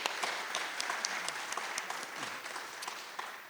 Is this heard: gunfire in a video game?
no